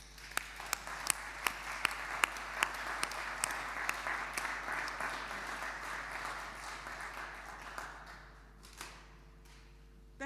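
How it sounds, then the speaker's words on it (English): Applause at a diocesan synod meeting, opening with a few sharp distinct claps and swelling into a steady, moderately distant round of clapping from the gathering that fades out near the end. "we applaud the work of the Liturgy Committee"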